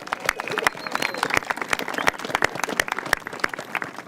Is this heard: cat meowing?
no